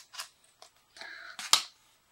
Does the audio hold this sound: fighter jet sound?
no